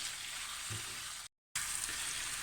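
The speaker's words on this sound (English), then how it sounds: "Let's get this frying and let's get this coating." Steady, bright sizzle of a coating frying in a hot pan, with a brief low stir or clunk, then a short gap before the sizzling continues.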